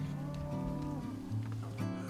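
Cattle moo close by on open ranch land in Garfield and Kane County, with several long, low, drawn-out calls overlapping one after another across the whole stretch.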